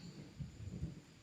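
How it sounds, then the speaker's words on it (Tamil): Low thunder rumbles during steady rain, a soft rolling swell under constant hiss of rainfall, moderately distant and fairly quiet. "இடியுது."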